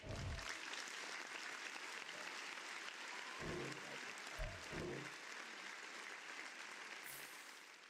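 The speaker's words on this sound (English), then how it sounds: "A round of applause to each and every one of you." Continuous clapping from a small group, steady and fairly even throughout, with a couple of low bumps partway through.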